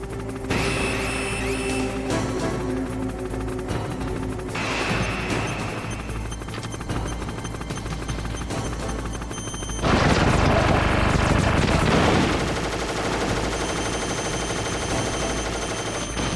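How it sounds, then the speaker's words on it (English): A boss fires a missile in the Metal Gear Solid video game: a loud, sustained burst of explosive rumble and crackle swells midway and fades back into steady game noise. "this is when he's going to fire the first missile"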